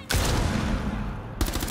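Rapid bursts of automatic gunfire in Rainbow Six Siege crackle loudly, one sustained volley followed after a short break by another sharp burst.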